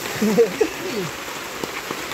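Steady rain patters down over wet sand, a soft continuous hiss of drops throughout, with faint voices murmuring underneath.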